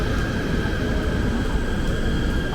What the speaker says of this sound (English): The train finally arrived in Seremban station at 6:37 am